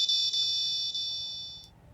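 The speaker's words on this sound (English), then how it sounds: "If MQ2 sensor detect LPG leakage or smoke, then a buzzer will start." A buzzer on an Arduino Nano smoke and LPG detector with an MQ2 sensor sounds a steady, high, piercing alarm tone. The tone stays continuous with a couple of slight dips, then stops.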